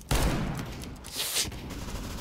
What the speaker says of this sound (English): Pull that fucking trigger now.